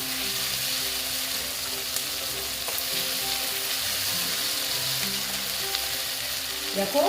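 Onions and spices sautéing in oil in a pan for an egg curry give a loud, continuous sizzle with a few faint clinks of a utensil, and no one speaks.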